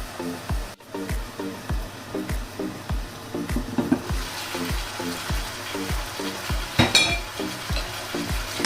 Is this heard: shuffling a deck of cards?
no